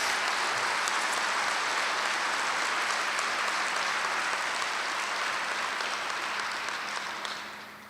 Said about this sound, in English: Please give our entire staff a significant round of applause.